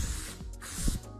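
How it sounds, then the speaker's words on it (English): Loctite spray adhesive hisses from an aerosol can while carpet is glued onto a subwoofer enclosure, two short, close bursts of spray separated by a brief pause, with no talking. "I'm using Loctite spray adhesive"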